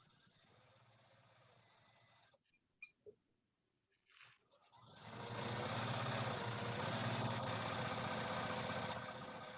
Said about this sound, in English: Cheryl's sewing fast.